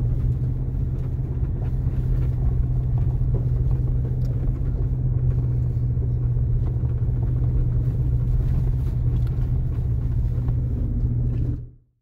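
A Ford Ranger Raptor drives off-road over a badly rutted dirt track, giving a continuous loud low rumble of engine and cabin drone with dense bumping texture. It cuts off abruptly at the end.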